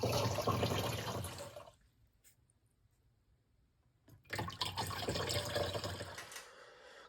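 Liquid iron hissing from a handheld sprayer onto a lawn in a close, continuous spray that stops for a couple of seconds and then resumes.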